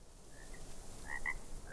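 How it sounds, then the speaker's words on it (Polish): A frog croaks in the video game ARK Survival Evolved, giving a few short, fairly faint croaks over the game's steady background ambience, with no talking. "Żabę, słyszę żabę."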